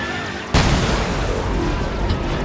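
A sudden heavy boom of ground-fire explosions in a TMNT video game, followed by a loud, sustained rumbling roar.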